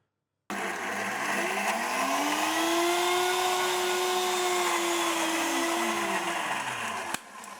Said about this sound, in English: we're going to blend until we get a nice smooth batter